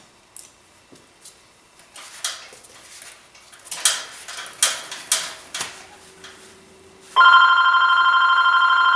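A telephone rings steadily and loudly near the end, a sustained electronic ring entering after soft tapping and brushing sounds of tile painting.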